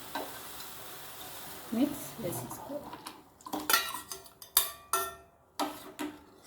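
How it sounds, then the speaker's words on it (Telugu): A spoon scrapes and clinks against a pot in repeated strokes as a kulfi mix is stirred into boiling milk, with a soft bubbling sizzle underneath. "ఇలా వేసి బాగా కలుపుకోవాలి"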